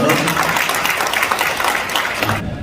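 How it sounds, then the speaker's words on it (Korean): A crowd claps at an awards ceremony for traditional culture, sustained applause from many hands, loud and close, with a faint voice beneath it before the clapping cuts off sharply near the end. "큰 박수 한번 해주십시오"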